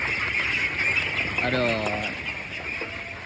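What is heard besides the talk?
ducks quacking on a duck farm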